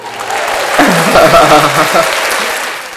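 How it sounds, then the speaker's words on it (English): A burst of clapping from several hands, swelling briefly and fading, with a voice faintly mixed underneath. "Let's give it a hand clap."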